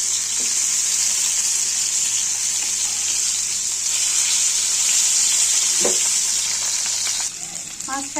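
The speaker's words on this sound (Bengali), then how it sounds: "এখন একটু লবণ হলুদ মেখে তেলের উপর ভেজে নিব।" Rohu fish coated in salt and turmeric frying in oil in a pan, a loud, close, continuous sizzle with occasional spatters and clinks, easing off slightly near the end.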